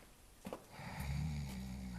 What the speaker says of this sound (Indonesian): Ada suara ngorok-ngorok, takutnya babi loh,